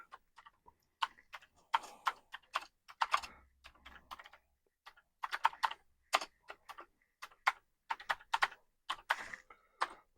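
Typing on a Commodore 64C keyboard, irregular bursts of close, clacky keystrokes with brief pauses between runs.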